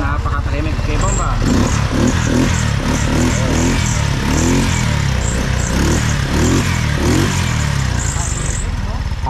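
A newly arrived vehicle at a warehouse idles with a steady, loud engine drone, with rhythmic pulsing and occasional rev swells, while people talk over it.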